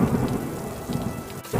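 Heavy rain pours down steadily with rumbling thunder rolling underneath, a dense, continuous storm roar with a brief dip near the end before the downpour swells again.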